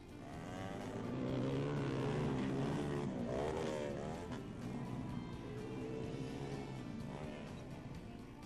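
Dirt bike engines roar steadily over rough terrain during a race, a dense, continuous revving drone that swells and shifts in pitch as the bikes pass.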